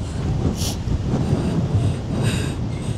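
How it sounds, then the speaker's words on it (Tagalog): Strong, cold wind buffets the microphone on the Bondi to Coogee coastal walk in Sydney, a steady loud roar of gusts with brief brighter rushes and no clear voices. "Parang tatangayin sa hangin."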